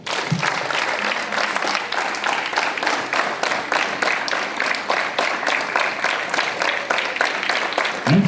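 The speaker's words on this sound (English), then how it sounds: "Hands up. Clap." Students at a school assembly clap hands together in rhythm, a loud, steady series of sharp claps repeating evenly throughout with no pauses.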